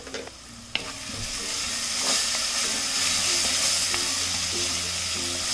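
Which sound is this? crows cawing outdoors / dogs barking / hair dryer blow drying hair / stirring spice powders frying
stirring spice powders frying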